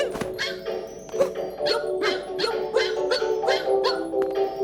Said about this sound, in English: there are shops in Mario Odyssey, which also contain a photorealistic Shiba Inu